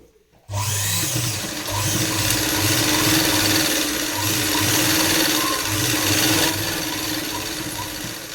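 A sewing machine stitches darts on a blouse, running steadily and loudly up close with a continuous whirring motor and rhythmic mechanical chatter for several seconds after a brief quiet start.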